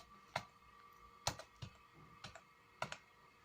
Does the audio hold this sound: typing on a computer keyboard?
yes